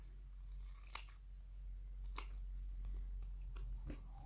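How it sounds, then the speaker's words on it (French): Scissors cut stickers while bookmarks are being made, giving several faint, sharp snips spaced apart over a low steady hum. "On va couper aussi."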